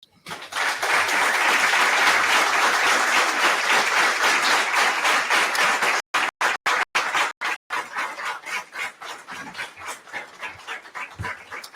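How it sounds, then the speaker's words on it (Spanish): Audience applause honoring Alaide Fopa at a tribute to Guatemalan writers who disappeared tragically: dense, steady clapping for about six seconds, then broken into short gaps and thinning into scattered, uneven claps. "ese aplauso es para Alaide Fopa"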